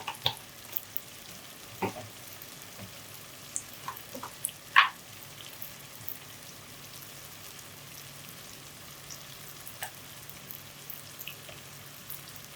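Onions sauté in a pan for paneer butter masala with a soft, continuous low sizzle and scattered light clicks and taps of a spoon stirring. Quiet and close, with no voices.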